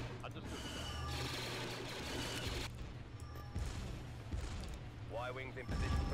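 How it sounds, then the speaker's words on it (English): An orbital strike volley in a Clone Wars mod of a video game. Rumbling bombardment blasts and crashes build through the clip, and a voice talks over the combat. "Sir, our cruiser's in position to commence orbital strike."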